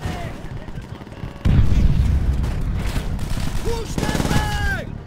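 A grenade blast in Call of Duty World at War, a loud, heavy boom that starts suddenly partway through and sustains as rumbling, amid ongoing battlefield gunfire and game effects.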